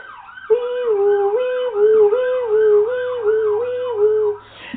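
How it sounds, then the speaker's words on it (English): An ambulance siren passes nearby, its loud wailing tone rising and falling in a steady repeating sweep for several seconds before cutting off, with no talk over it. "Sorry, ambulance just passed by"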